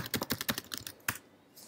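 Rapid clicks of a computer keyboard being typed at in a Bash shell session, a quick burst of keystrokes followed by a single firm tap and then quiet.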